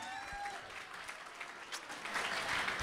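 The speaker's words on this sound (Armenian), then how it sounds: "Այ հիմա եկեք իհարկե բոլորս միասին շատ ջերմ ծափարենք" A live audience applauds warmly to welcome a singer onto a television talk-show stage, the clapping steady at first and swelling louder toward the end.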